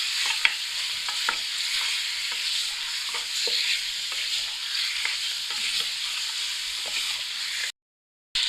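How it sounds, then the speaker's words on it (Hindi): Meat fries in a pan with browned garlic and onion for haleem, a steady close sizzle broken by stirring scrapes and light clinks, then a brief silence near the end. "अब हम शामिल कर देंगे गोश्त इसके अंदर। और इसको अच्छे से भून लेंगे।"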